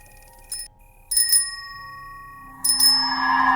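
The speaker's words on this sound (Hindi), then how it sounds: "वो घंटी की आवाज़ धीरे धीरे मेरे पास पहुँचने लगी।" Bright metallic bicycle-style bell rings out in three separate bursts, each leaving a long shimmering ring that grows denser toward the end.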